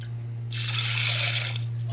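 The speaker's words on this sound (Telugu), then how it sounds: "కడుక్కోవాలి ఒక రెండు సార్లు నీళ్ళు పోసి దీన్ని" Water is poured over chana dal to rinse it, a bright splashing gush that starts abruptly and runs for about a second and a half over a steady low hum, with no speech.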